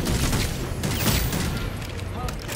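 Gunfire from the co-op vampire shooter Redfall comes as a dense, loud burst of shots and booms filling the short stretch, mixed with other game noise and a voice talking.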